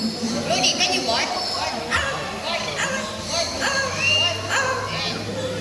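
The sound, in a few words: child imitating a dog barking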